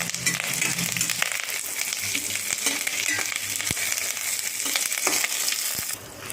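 Fresh curry leaves frying in hot oil in a pan for a drumstick-leaf spice powder: a steady loud crackling sizzle with scattered sharp pops and occasional stirring knocks, close throughout.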